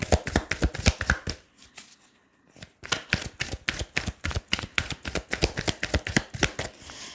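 Oracle cards being shuffled for a reading: a rapid, steady train of crisp riffling snaps close by, pausing briefly for about a second before resuming the same brisk rhythm, with no talking.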